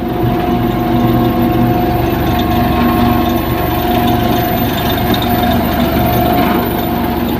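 An old motor grader's engine runs at a road construction site, a loud, steady, close droning hum with constant tonal whine and no pauses, no voices.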